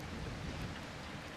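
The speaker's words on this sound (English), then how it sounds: "It's starting to rain now" Rain falls as a steady, dense wash of noise with low rumbling underneath, quiet and continuous with no speech over it.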